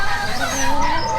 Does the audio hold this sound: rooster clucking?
yes